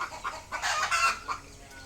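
Native chickens cluck in short, uneven bursts at close range, a few laying hens calling over one another with brief pauses between.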